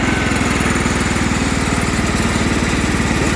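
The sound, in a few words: John Deere L110 lawn tractor engine running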